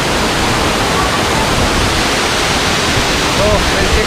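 A waterfall in a forest trekking spot near Tenkasi roars loud and close, a dense unbroken rush of falling water that fills the whole stretch without pause.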